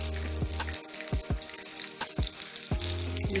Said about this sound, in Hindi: इसको भी फ्राई कर लेते हैं दोनों साइडों से